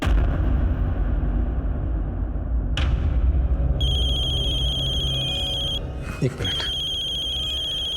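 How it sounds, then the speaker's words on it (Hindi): A telephone rings with a steady electronic tone that starts, pauses and resumes, alongside a couple of dull thuds and a brief spoken line from a nearby voice. "समदन जी का फोन है"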